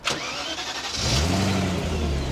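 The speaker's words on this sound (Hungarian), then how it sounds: "De jó hangja van. V8." A V8-swapped BMW E36 3 Series Compact engine cranks and starts with a roar about a second in, then settles into a deep, rumbling idle close by.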